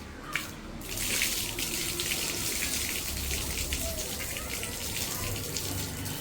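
Water runs steadily from a tap in a village in Jaffna, a constant near, moderately loud splashing flow that continues throughout.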